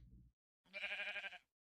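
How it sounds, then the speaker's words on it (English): Sheep bleating in Minecraft (Java 1.14.4, survival mode): a single wavering, nasal bleat of about a second, clear and close, following a brief low thud, with no talk over it. "Sometimes the sheep don't want to"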